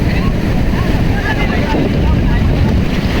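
Sea waves washing onto a beach in heavy rain, a steady loud rush of water and wind buffeting close to the microphone throughout, with voices faintly mixed in.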